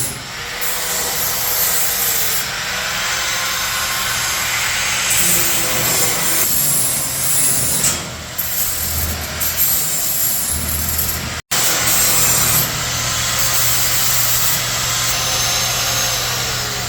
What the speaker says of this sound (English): he's just going to grind down the edges now because they'll be razor sharp